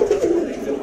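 A single pigeon coos close and loud in a short, throaty rolling call at a fancy pigeon market in Dhaka.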